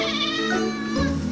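A stray city kitten found hungry in a gutter lets out a close, clear, drawn-out meow that bends in pitch and ends with a lower, rougher tail.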